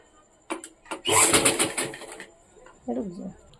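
A sewing machine runs in a quick, buzzing burst of about a second while stitching pleats on a short top, followed by someone speaking briefly.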